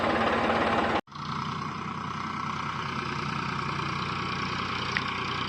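A tractor fitted with a cultivator and a plank leveller runs with a steady, close engine hum that cuts out briefly near the start and then resumes evenly, with no talk.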